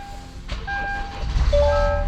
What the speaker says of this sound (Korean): 시동 한번 켜보도록 하겠습니다.